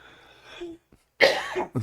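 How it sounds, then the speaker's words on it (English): A couple of people in a dry indoor room coughing: a soft throaty sound, a brief pause, then one loud, close, harsh cough and the start of another. "2 of us are a couple of lungers coughing in here, huh?"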